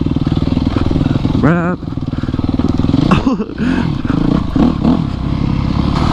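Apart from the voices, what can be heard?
dirt bike riding on a dirt trail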